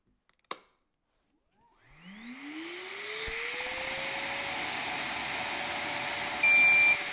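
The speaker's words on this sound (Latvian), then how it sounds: "tajā brīdī, kad sūkšanas caurulē jums gaisa plūsmas ātrums ir mazāk par 20 metriem sekundē, putekļsūcējs sāk pīkstēt" An M-class vacuum cleaner starts up after a sharp click, its motor rising in pitch to a steady, loud whir, and a short, faint beep sounds near the end as suction airflow runs low.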